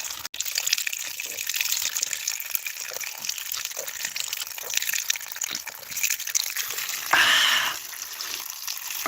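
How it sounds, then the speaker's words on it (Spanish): Water runs in a soft continuous hiss, swelling into a brief louder gush near the end, with faint voices in the background. "Por fin hemos encontrado la valiosa agua."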